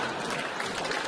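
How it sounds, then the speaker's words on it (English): A short burst of clapping applause from a small audience at a comedic entertainment news show, fairly loud and steady, with no voices over it. "Hey, some claps."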